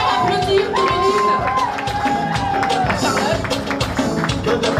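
A crowd at a Congolese music event in Paris claps and cheers in a loud, busy mix, with sustained tonal voices and music over scattered clapping throughout.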